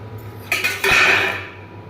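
A spoon scrapes and clinks in a pan while ground spices and crushed kasuri methi are stirred together for a paneer curry, producing two quick metallic knocks followed by a louder, sustained scraping swirl, close up.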